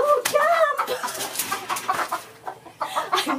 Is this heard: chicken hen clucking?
yes